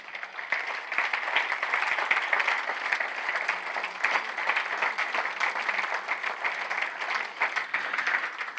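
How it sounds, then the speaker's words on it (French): Sustained audience applause fills a hall at a French talk about an unusual career path, steady dense clapping at moderate loudness throughout with no speech over it. "vous pouvez applaudir si vous voulez"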